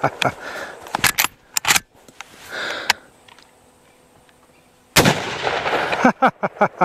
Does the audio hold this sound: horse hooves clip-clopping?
no